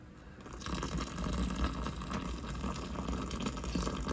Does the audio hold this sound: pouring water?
yes